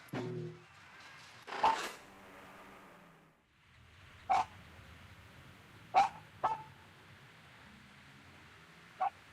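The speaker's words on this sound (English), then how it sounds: "I apologize for the dog." Dog barks in a corru.observer game scene, a few sharp separate barks spaced out across the clip over a low ambient background drone, with a brief whimper-like sound near the start.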